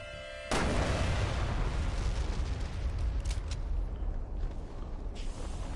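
A sudden loud explosion in Resident Evil Revelations 2 blasts apart zombies, a heavy boom that rolls into a long, dense roaring rumble with crackling debris that lasts several seconds.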